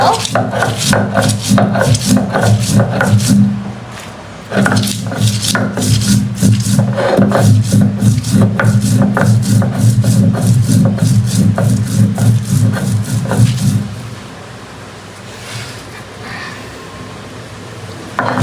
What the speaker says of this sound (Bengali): আমি এখন শুকনো মরিচটা বেটে নিব